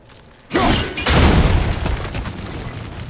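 A sudden loud blast erupts in God of War (2018), a sharp boom with shattering debris that rumbles on and slowly fades.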